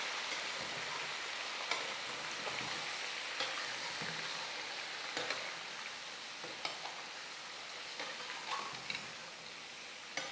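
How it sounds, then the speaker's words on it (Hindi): Mutton fries with whole garam masala in a pot, giving a continuous soft sizzle and crackle with scattered clicks and scrapes as a spoon stirs the meat, steady and fairly quiet, with no talking. "इसको इसके साथ खड़े गरम मसालों के साथ फ्राई करेंगे।"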